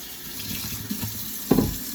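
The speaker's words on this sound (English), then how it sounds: "Rinse it off, of course." Tap water runs steadily into a kitchen sink as a dish is rinsed, a soft continuous splash with a brief louder surge near the end.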